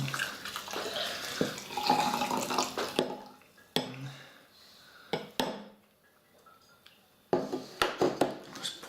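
A fizzy Core Charged Up drink poured into a glass, a close splashing, gurgling stream for a few seconds, then quieter fizz broken by sharp clinks and a second burst of pouring.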